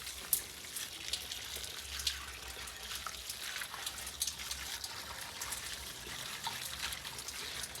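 Soft, steady rain patters and trickles nearby, a continuous wash of drips with occasional sharper drops standing out.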